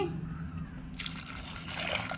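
Water being poured into a cooking pot while making a spicy South Indian kara kuzhambu, a soft trickle that turns into a brighter, steady splashing pour about a second in, fairly quiet and with no talk.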